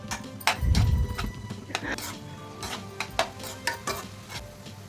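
Onions with salt and turmeric stir-fried in a pan, close spatula scrapes and clinks against metal over a low sizzle, with a brief thump near the start.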